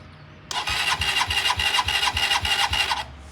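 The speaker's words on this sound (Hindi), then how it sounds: "बाइक जो है वो स्टार्ट करेंगे" A motorbike starter cranks on a morning of heavy dew, with a rapid, even train of mechanical pulses for about two and a half seconds before cutting out without the engine catching. Close and loud, with no talk.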